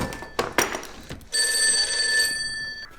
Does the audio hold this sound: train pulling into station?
no